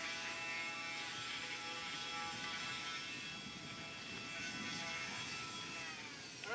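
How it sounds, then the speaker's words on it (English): An electric grinder runs steadily while a horse's hooves are trimmed, a constant fine buzzing whine with a faint grinding texture that holds through the whole stretch and rises at the very end. "So I'm going to start the grinder again."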